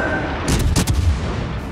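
Light cruiser guns firing in World of Warships, a couple of loud booming salvos close together, with rumbling low tail over steady background noise.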